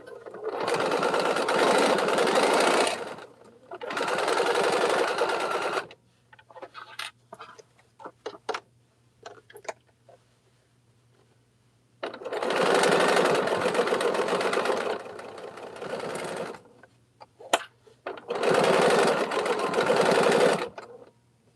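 A home sewing machine stitches a Poppins bag at a 2.75 stitch length, running in four separate loud, rapid mechanical bursts of about three seconds each, with a quiet low hum and scattered small clicks in the pauses.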